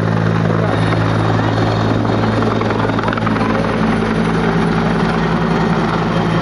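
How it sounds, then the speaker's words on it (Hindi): A helicopter takes off at a fair, its rotor and engine roaring steadily and loudly throughout, a continuous close whir with a low drone underneath. "और फिर से उड़ने वाला है हेलीकॉप्टर"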